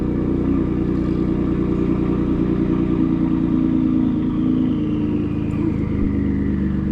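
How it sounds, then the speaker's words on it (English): A lifted Ford F-150 pickup's engine with a MagnaFlow high-flow catalytic converter rumbles steadily at idle, loud and close, with a low throbbing tone and no talking. "I'm gonna let her idle down for a second."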